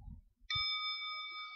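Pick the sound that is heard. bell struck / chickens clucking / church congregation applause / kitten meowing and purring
bell struck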